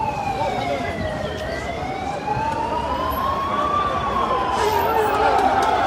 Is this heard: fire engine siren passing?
yes